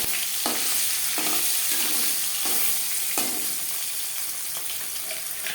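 Salt-and-turmeric-coated aar fish fries in three spoons of hot refined oil, a loud continuous sizzle close by, broken by a few sharper spatters and stirring knocks, with no speech.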